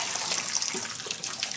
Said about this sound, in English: we'll go over to the sink and drain them